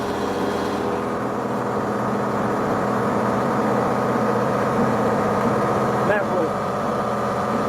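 A Tigercat 726B feller buncher engine idles in a steady, loud, close drone, with a person speaking briefly over it.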